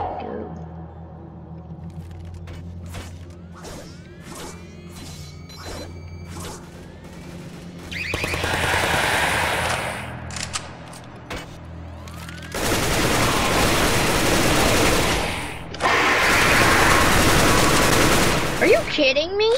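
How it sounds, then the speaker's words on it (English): Roblox game gunfire: a rapid series of sharp single shots gives way to loud, dense bursts of automatic fire and turret blasts, growing heavier and closer toward the end. "I can already hear the guns"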